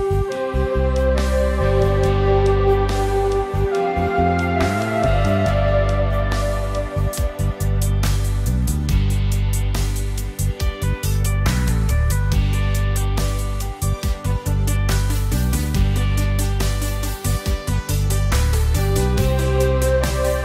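A Korg Pa5x arranger keyboard plays an auto-accompaniment style with no pads, full and loud, with drums, bass and chords driving a steady beat for about twenty seconds and no voices over it.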